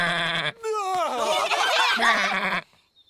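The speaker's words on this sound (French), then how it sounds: "Que vient de dire le mouton? Le mouton a dit bé." A cartoon sheep bleats in a few wavering, nasal calls lasting about two seconds, close and clear, after a short tonal sound at the start, with no talking over it.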